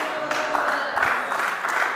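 An audience at a sermon on angels breaks into scattered clapping, moderately loud and uneven, with some crowd murmur mixed in and a few sharper claps standing out.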